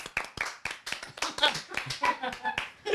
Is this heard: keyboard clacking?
no